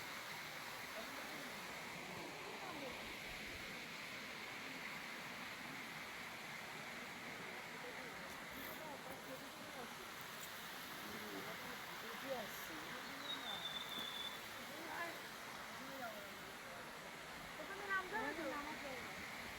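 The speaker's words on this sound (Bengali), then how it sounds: "জল বয়ে যাচ্ছে ঝর্নার জল" A waterfall pours down a hillside near a Naga temple, making a steady, unbroken rushing roar at moderate distance, with faint talking underneath.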